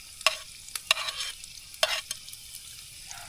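Onions frying in a pan at a lakeside campsite, stirred with a utensil that makes a few sharp scraping clacks over a faint sizzle, close and otherwise quiet.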